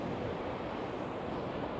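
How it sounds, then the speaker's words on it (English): Wind gusting across a microphone on an empty beach at Matinhos, Pontal do Paraná, Brazil, with surf washing underneath as a dense, continuous roar and no voices. "hopefully the wind isn't too bad. It's in my face."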